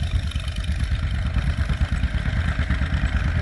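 A D10 antique tractor engine chugs steadily at plow day, a close, continuous rhythmic mechanical thrum with some clatter and no voices.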